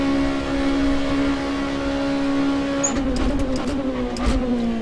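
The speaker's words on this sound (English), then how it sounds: "This is the URD LMP2, or I think it's called LMP2 something." A URD LMP2 prototype race car in a racing video game holds a steady, loud engine drone on the Mulsanne straight, then shifts and revs with brief tire or gear transients near the end, with no talking.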